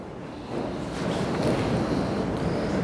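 Wind gusts in through an opening in a house, giving a steady, rushing roar that builds after the first half second and stays loud and unbroken, with no speech.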